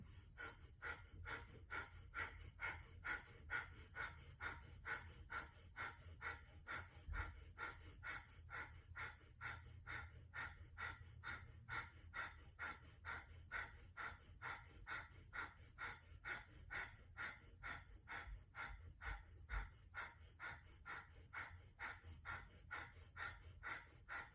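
Breath of fire yoga breathing: rapid, rhythmic forceful exhales through the nose, steadily repeated about twice per second for the whole stretch, close and fairly quiet.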